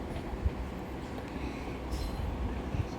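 A train on the Ooty to Coonoor line runs with a low, continuous rumble and rattle from the carriage, heard from inside, with faint clunks from the wheels.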